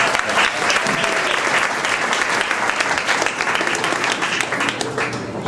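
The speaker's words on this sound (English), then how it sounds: "So let's give ourselves a great applause." A crowd at a speech event breaks into loud, sustained applause, many hands clapping densely and evenly from start to finish.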